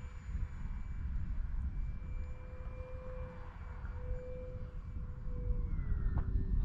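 An FMS Cessna 182 Skylane RC model airplane flies over a grass field, its electric motor giving a steady whine that shifts slightly in pitch and drops near the end, heard alone at moderate distance.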